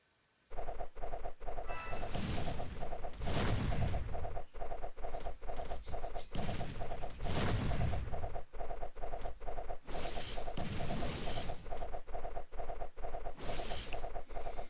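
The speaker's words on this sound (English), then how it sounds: "this is another wave with cannons" Cannons firing in the tower-defense game Idle Kingdom Defense, a steady rapid barrage of sharp repeated shots that continues without pause, with booming impacts layered over a constant battle din.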